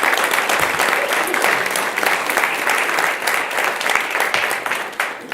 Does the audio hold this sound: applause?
yes